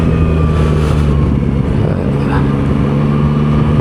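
A motorcycle engine, a bigger and more powerful bike, revs as the throttle opens while riding on the road, a loud, steady, continuous drone with heavy wind rumble throughout and no pause.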